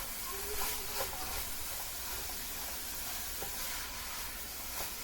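Sausage frying in a pan makes a steady, close sizzle and hiss while a utensil scrapes and stirs it with occasional soft clinks, the crackle continuous throughout with no talking.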